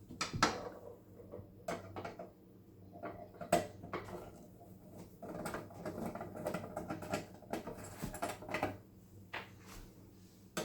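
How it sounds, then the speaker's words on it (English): Screws being unscrewed from the side cover of a Phoenix M1 water-activated tape dispenser, quiet close metallic clicks and rattles from a driver, irregular and faint with brief taps throughout. "you unscrew 3 screws to remove the side cover"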